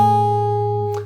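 A brief fingerstyle acoustic guitar lick from a song, a few plucked notes ringing out sustained and clear, alone with no talking, fading at the end.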